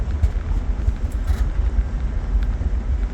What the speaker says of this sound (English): I'm gonna drive down one of these back roads behind my house that's pretty bumpy